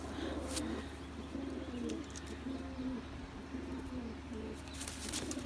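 Soft cooing from a female pigeon in a loft, low repeated coos rising and falling over a faint steady background hum, fairly quiet and with no voices.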